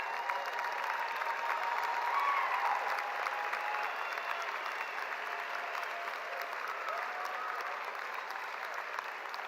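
Steady, even applause fills a university commencement hall at UNMC's 2022 spring ceremony as families and supporters are honored, sustained and fairly faint, without speech over it.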